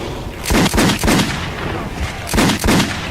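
Gunfire in the video game Metro 2033, with two loud bursts of rapid shots close up, one early and one near the end, and quieter noise between them.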